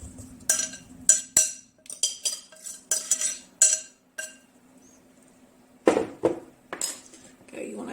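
Mashed potatoes being scraped and stirred in a bowl, a spoon clinking and knocking against the sides in a run of sharp bursts, then a pause and a few more knocks.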